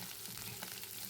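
Onions, green chilies and a sprig of curry leaves sauté in hot oil, giving a soft, continuous sizzle at low volume with no talking.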